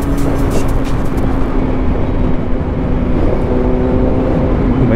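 A Suzuki GSX-S750 big motorcycle engine revs up steadily while accelerating, with a continuous close rumble and a faintly rising tone that carries through the whole stretch, with no talk over it.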